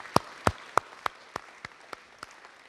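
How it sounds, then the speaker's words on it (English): A short burst of hand claps, about nine distinct claps spaced fairly evenly and fading in strength, with no talking. "please, a little round of applause."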